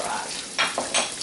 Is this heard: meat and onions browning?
yes